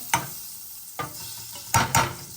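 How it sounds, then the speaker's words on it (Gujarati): Butter and a little oil heat in a saucepan for cooking rice, giving a soft steady sizzle broken by a few stirring scrapes and knocks. "સેમ પેનમાં મેં થોડું બટર લઈ લીધું છે. આપણે રાઈસ બનાવવા માટે બટર અને થોડું ઓઇલ નાખશું"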